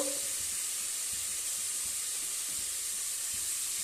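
Onions frying in hot oil for a mutton curry, a steady close sizzling hiss that runs unbroken throughout.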